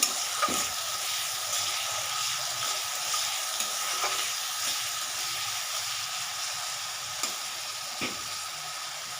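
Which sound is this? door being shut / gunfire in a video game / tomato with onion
tomato with onion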